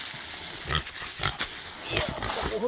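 Short grunts from a pig sound close by over a constant noisy background, with a few faint voices now and then.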